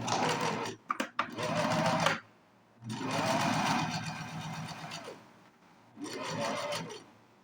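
A sewing machine stitches the side seams of fabric in three sustained bursts separated by short pauses, loud and close, with a couple of quick clicks at the start.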